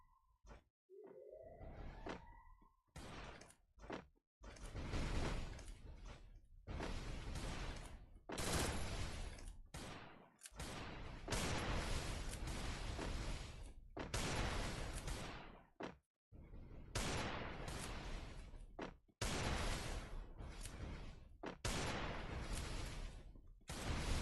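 MP40 submachine gun fire in a team-code video game match: dense, loud bursts of automatic shots that run almost continuously, broken by a few short pauses, with no talking over them.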